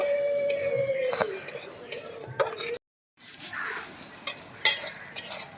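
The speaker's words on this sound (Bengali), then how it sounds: "এবারে একটু ভেজে নেব যাতে কাঁচা গন্ধটা চলে যায়" Dry semolina stirred and roasted in a pan for sujir puri, with repeated scraping and clinking of a utensil against the pan, a brief silent gap midway, and a faint sizzle underneath.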